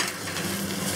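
Taiwanese spinach stems stir-fry with garlic in a pan, a dense, loud, close sizzle with the scrape of tossing, heard alone for about a second.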